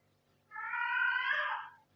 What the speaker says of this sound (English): Wait, this is my cat. Listen to this.